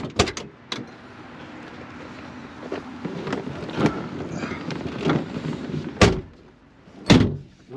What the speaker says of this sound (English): Those doors for a Fox body are super solid. They close so well.